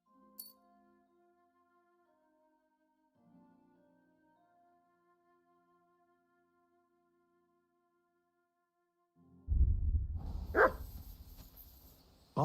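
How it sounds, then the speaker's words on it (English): A dog in the medieval world of Kingdom Come: Deliverance II breaks into a few loud, close barks after a long stretch of quiet, faint musical tones. "Barking."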